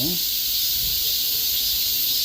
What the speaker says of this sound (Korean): 매미 소리가 요란합니다.